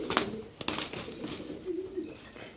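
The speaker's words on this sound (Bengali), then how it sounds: "এখানে এক জোড়া কবুতর দিলাম" A pair of pigeons coo softly at close range, low throaty murmurs rising and falling, with a couple of sharp brief rustles or flaps early on.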